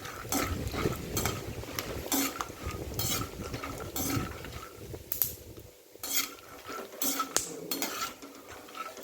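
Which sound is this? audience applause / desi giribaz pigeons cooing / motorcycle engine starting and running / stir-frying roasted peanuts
stir-frying roasted peanuts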